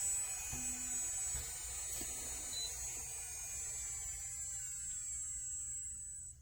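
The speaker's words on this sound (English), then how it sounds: "This is really nice nail drill." An ANBEISTEE 45000 RPM professional electric nail drill runs steadily throughout, a thin high-pitched whine that holds even and close, with its pitch gliding slightly lower toward the end.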